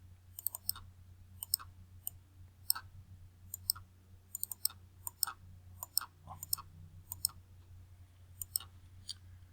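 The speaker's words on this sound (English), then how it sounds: "double click on that" Computer mouse clicks, many crisp close clicks arriving in irregular pairs and clusters over a low steady room hum, with no voices.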